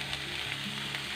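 Daliya sizzles steadily in a hot pan as turmeric, sabzi masala and other spices go in, a close, continuous frying hiss with faint stirring and no talk.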